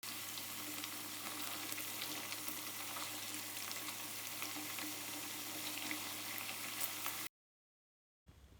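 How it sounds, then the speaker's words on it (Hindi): Cut potatoes frying in oil in a pan, giving a steady, close hiss and sizzle that runs unbroken for about seven seconds, then drops to a brief silence before resuming faintly. "अब एक पैन लें, उसमें हस्बे ज़रूरत ऑयल डाल लें और जो पोटैटो हमने कट किए थे उसको हम इनमें फ्राई"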